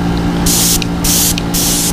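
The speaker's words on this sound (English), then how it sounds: "just gonna lightly spray the entire thing" Opaque pearl paint sprayed lightly over a gold-painted fishing lure, three short bright airbrush-style hisses in an even rhythm, close and loud over a low steady compressor hum.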